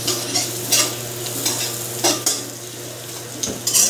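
Garlic, onion and ginger sautéing in a pan while a squid adobo in coconut milk is prepared, with a steady sizzle and repeated scraping stirs of a utensil against the pan, close and alone.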